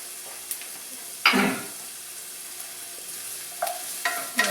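Chopped red onion sizzling in about a tablespoon of olive oil in a pan, a faint steady hiss broken by a few brief louder bursts of frying and stirring.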